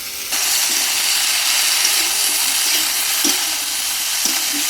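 Cauliflower pieces with turmeric and salt fry in hot mustard oil in a pan, giving a loud, continuous sizzle with occasional stirring scrapes and no talking.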